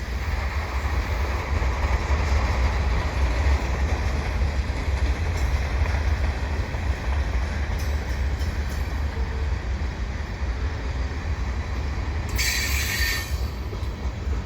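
A heavy CN mixed freight train hauled by four locomotives rolls past at close range, a loud continuous roar of wheels on rail with a brief high wheel squeal near the end.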